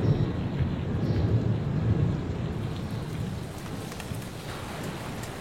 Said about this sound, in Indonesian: Kenapa turun hujan seperti ini?